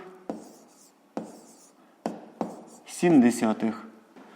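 A pen taps and scratches on paper in a few short, separate strokes while writing numbers for a fifth-grade maths exercise, with a person speaking briefly toward the end.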